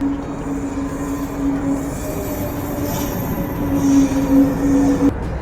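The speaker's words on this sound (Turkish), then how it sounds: "Hadi bakalım trenimiz geliyor." A train pulls into a Dutch station in Utrecht, rumbling loudly up close with a sustained metallic wheel squeal humming over the rolling noise, ending in a sharp clack.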